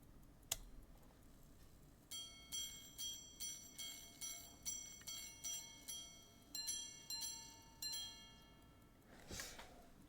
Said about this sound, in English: The quarter repeater, first the hours and then the quarters.